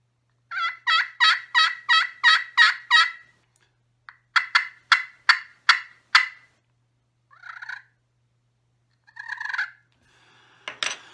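A crystal friction turkey call sounds loud and close: a run of sharp rhythmic yelps, a second series, then a few softer purring clucks, alone without talk.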